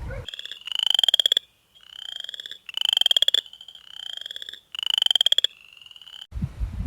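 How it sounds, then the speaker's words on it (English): An upland chorus frog gives three loud, close rising creaky trills, each a rapid run of clicks sweeping upward, separated by short pauses, with nothing else audible. "Upland chorus frog."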